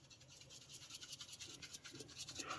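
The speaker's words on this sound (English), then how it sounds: "I like to add some black pepper, so I'm gonna use my grinder for that real quick" A hand pepper grinder cracks black peppercorns, a quick rapid scratchy grinding of repeated short crunches, close and faint, with no voices.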